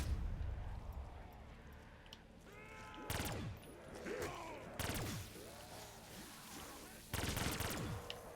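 Death Machine minigun in Black Ops 3 Zombies on the Shadows of Evil map, heard as three short rattling bursts of rapid fire mixed with chirping game effects, all fairly quiet.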